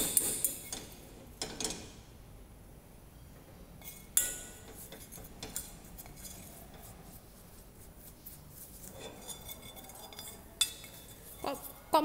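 Flour roux being stirred in hot oil with sautéed onion and garlic in a pan, scraping and stirring with scattered clinks and taps of a utensil against metal, quiet and close.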